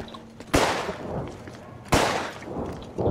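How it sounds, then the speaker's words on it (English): Two sharp gunshots in the video game Contagion, each a loud crack with a short decaying tail, spaced about a second and a half apart, with a third starting at the end. "I just hear gunshots going off, but I don't know where it's coming from."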